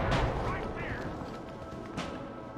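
Loud gunshots crack in a Red Dead Redemption shootout, with several sharp blasts and a booming report amid chaotic background noise and voices.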